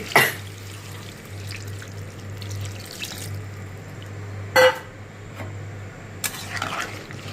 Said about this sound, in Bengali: ঝোল দিয়ে দিচ্ছি।